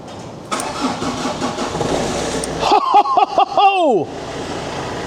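An old Suzuki Vitara engine, left standing for four years, cranks and sputters in uneven bursts with loud whining starter sounds, followed by a stretch of steady background noise.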